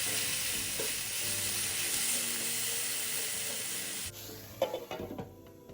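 Yam bean strips stir-fried in a wok as the last moisture cooks off, with a steady broad sizzle for about four seconds, then quieter with a few clinks and scrapes of the spatula near the end.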